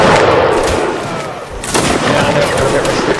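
A musket volley from line infantry cracks out in a Napoleonic Wars video game, loud and close, with dense overlapping shots, a brief lull, then another burst.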